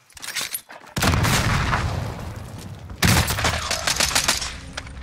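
Loud bursts of gunfire and automatic weapon fire in the video game Call of Duty: Modern Warfare come in dense volleys. A short quieter gap is followed by a sharp second barrage of shots and booms.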